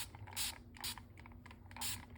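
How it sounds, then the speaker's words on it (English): Several short, faint hissing bursts of water from a trigger spray bottle onto paper, spaced irregularly over a quiet background with light mechanical clicks. "So I'm going to spray my paper"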